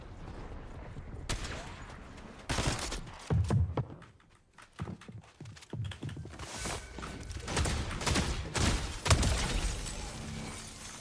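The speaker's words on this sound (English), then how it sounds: "Who's shooting at my bot?" Gunfire in Fortnite arrives in scattered bursts of sharp shots and impacts, some loud and close, others trailing off, with brief quieter gaps between volleys.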